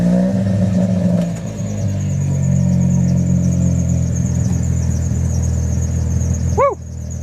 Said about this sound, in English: Definitely need a new power steering pulley. That is a horrible noise.